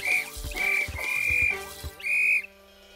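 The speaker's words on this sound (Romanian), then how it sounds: "Când Torch va sufla în fluier, stop!" A shrill whistle sounds in several short bursts, with low thumps and a busy background in between, fairly loud and close.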